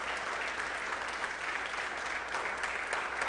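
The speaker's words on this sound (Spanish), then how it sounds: "vamos a darle un aplauso al Señor" Steady applause from a church congregation, dense clapping filling the whole stretch at an even, moderately loud level with no voices.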